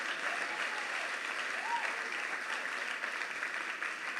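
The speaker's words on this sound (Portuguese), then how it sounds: "Pode aplaudir então, gente." A church congregation applauding in sustained, even clapping that fills the room at a moderate distance, with a faint voice briefly audible underneath.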